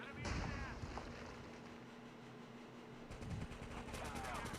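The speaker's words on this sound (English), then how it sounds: "Hyper, the gunshots are right up in your area." Bursts of Call of Duty: Mobile battle royale gunfire crack out in short volleys, some rapid like automatic fire, over a steady background hum with occasional voices.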